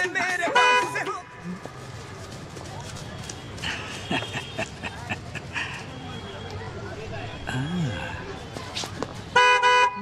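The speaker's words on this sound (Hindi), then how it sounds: "रोड में गाड़ी तो दिख नहीं रही, खामखा हॉर्न क्यों बजा रहे हो?" Car horn blasts sound loudly at the start and again at the end in harmonic honks, with traffic noise and talking voices in between.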